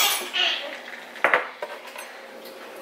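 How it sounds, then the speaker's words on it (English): A spoon stirring iced coffee with half and half, clinking and scraping against the glass in a few short bursts, ice knocking faintly, close and alone. "Give your coffee a stir."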